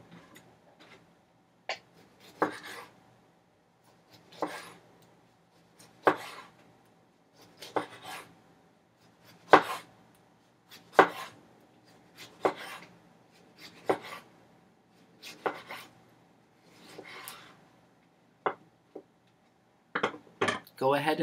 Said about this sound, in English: Now we'll be making slices with the tomato. Go ahead and chop off the stem end first.